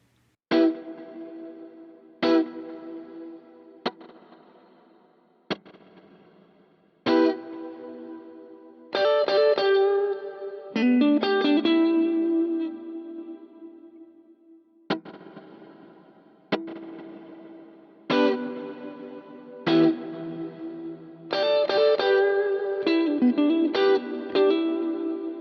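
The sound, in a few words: guitar with Plex delay effect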